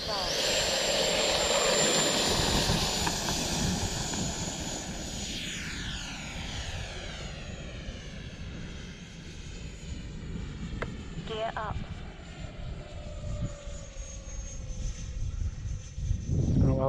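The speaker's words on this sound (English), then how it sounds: "it's the first flight of the e-flite F16" An E-flite F-16 RC model jet on its first flight whines overhead, its pitch sweeping down in a steady Doppler pass, with loud wind and handling noise at the start and a steady hiss as it flies away.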